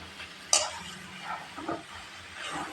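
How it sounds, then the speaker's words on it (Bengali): Oil heating for a tempering in a pan before data greens are added, with one sharp clink of metal, then a quiet, low sizzle and light stirring. "এখন আমি তেল দিয়ে বাগার দিব"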